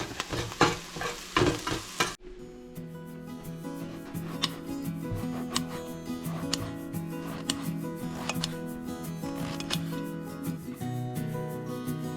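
Eggplant, potatoes and lightly browned onion sauté in oil in a pan, opening with loud stirring and scraping, then a steady close sizzle punctuated by sharp utensil clicks and taps.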